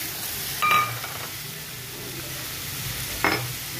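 Banana frying in a pan with salt and turmeric gives off a steady low sizzle, broken twice by brief louder stirring scrapes and clinks.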